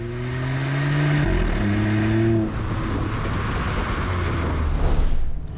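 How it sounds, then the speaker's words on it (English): Exhaust note from a Hyundai Venue N Line with a throaty, rich sporty exhaust, heard as the engine revs up, holds, then dips and swells again, loud and close with no talking. "Disc brakes on all four wheels and a throatier, richer exhaust note adds to the sporty credentials of the car"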